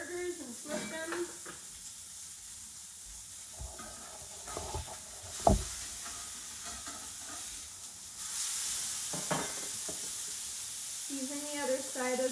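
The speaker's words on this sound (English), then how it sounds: "I'm just gonna check on my burgers and flip them." Burgers fry in a hot pan with a steady broad sizzle and hiss, broken by scattered clinks and scrapes as they are turned over; the frying runs throughout, close and even, with faint voices at moments.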